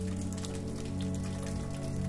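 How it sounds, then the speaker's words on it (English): Soft rain falls in a steady, even patter of fine drops, a continuous close wash of sound with no voices. "Let the soft whisper of rain be the last thing you hear as you journey into dreamland."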